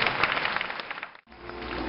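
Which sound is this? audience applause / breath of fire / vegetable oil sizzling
audience applause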